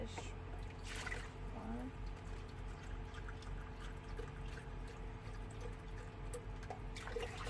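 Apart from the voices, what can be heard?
chicken broth being poured into a pot for gumbo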